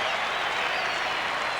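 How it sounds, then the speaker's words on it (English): An Australian rules football crowd at North Melbourne vs Hawthorn in 1992 roars and applauds a goal, a dense, steady wash of cheering and clapping from a large stadium audience with no break. "From the crowd reaction, it's a goal"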